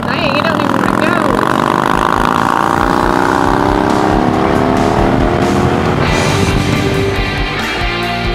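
An Indian Challenger and a Harley-Davidson Road King roll on in third gear together, loud, close engine roar with rising pitch as both accelerate; people talk over it.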